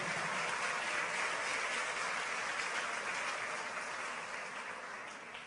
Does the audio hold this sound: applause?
yes